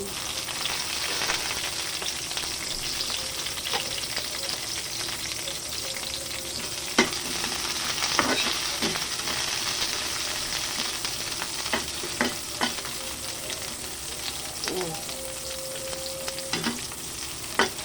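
White onions sizzling in hot oil as they caramelize for a chicken wings dish, a dense continuous crackle with scattered sharp pops and occasional utensil knocks, close and alone with no voices.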